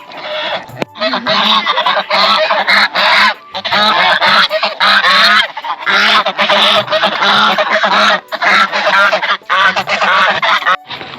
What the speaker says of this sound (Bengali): রাজহাঁস নামটা অন্যরকম